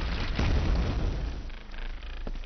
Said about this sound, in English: That's a lot of explosions over there.